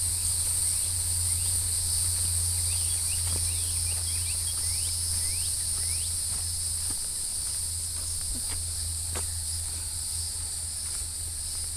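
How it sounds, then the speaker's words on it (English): Steady high-pitched cricket trilling fills a lakeside hiking trail in Osceola County, Florida, with continuous insect buzzing, a low hum underneath, and scattered faint clicks; no voices. "the crickets and all the other bugs out here making noise"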